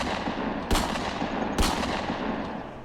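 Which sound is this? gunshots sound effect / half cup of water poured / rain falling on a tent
gunshots sound effect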